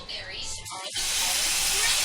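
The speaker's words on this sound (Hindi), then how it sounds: "तेल लगाए, अभी ये चिल्ला डाले," Chilla batter made from wheat flour hits an oiled pan and breaks into a loud, steady sizzle after a short muffled pause, with someone talking just before it.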